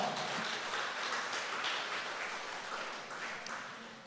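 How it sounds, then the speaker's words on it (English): Audience applause at an Atomy Philippines talk in a hall: a steady, dense wash of clapping from a crowd that gradually thins toward the end, heard alone without speech. "Give yourself a hand of applause."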